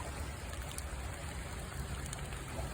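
A rain-swollen flooded creek rushes past in a dense, steady hiss of moving water, fairly faint and unbroken, with no voices.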